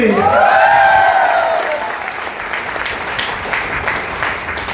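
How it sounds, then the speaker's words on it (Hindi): An audience at a team training session in Dibrugarh breaks into applause for Vikas, starting with loud voices and cheering that settle into steady, moderate clapping. "ताली विकास के लिए"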